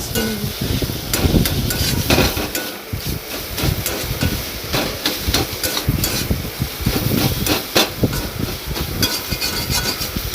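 Amaranth stem greens are stirred and tossed in a pan after salt goes in, making a busy, continuous rustling sizzle with frequent scraping strokes, close and fairly loud with no voices.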